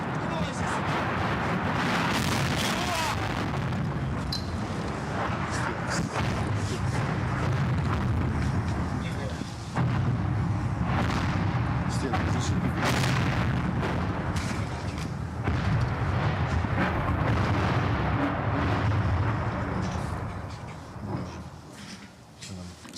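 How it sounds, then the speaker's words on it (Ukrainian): Grad rockets launched at a city explode roughly 300 metres away in a dense barrage of heavy booms and rumbling blasts, continuous and loud, with voices mixed in the wartime street. "Це були гради, запущені росіянами по місту, які впали метрів за 300."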